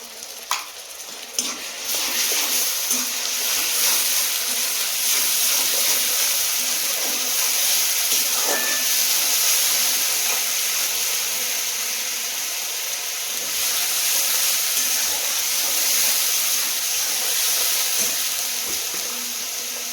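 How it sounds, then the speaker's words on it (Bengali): Onions sizzling steadily in hot oil in a pan, a continuous broadband hiss that holds evenly through the whole stretch after a few brief clicks at the start, with no talking. "পেঁয়াজটা ভাজা ভাজা হয়ে গেছে"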